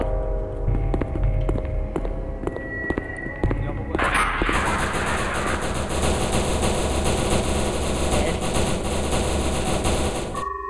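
Gunfire in an SCP video game, rapid rattling automatic shots that break into a dense sustained burst lasting several seconds, loud and close.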